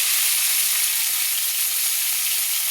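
Sliced pointed gourd (potol) fries in hot oil, giving a dense, steady, loud sizzle that fills the whole moment without pause.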